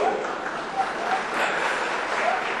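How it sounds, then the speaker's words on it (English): An audience at a lecture on the future of Indian institutes of technology breaks into steady applause, a moderate wash of clapping lasting a couple of seconds. "I didn't know that was so interesting to deserve an applause"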